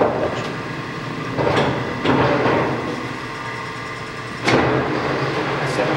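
LeBlond Regal heavy-duty lathe with its spindle turning at low speed, a steady mechanical hum with occasional clunks and rattles at intervals, fairly close and without speech.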